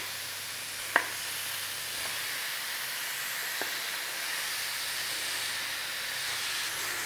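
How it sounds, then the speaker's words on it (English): Beef chunks hit hot curry paste in a pan, setting off a steady, quiet hiss and sizzle that carries on evenly throughout, with a couple of small clicks and no talk. "what I'm going to do now is chuck in some of this beef in there"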